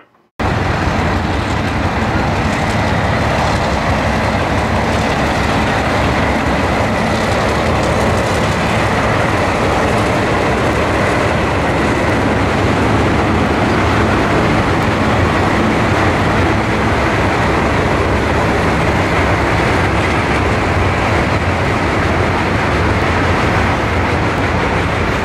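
A loud, continuous rumble and roar of a train rolling past close by, steady for the whole stretch with no voices.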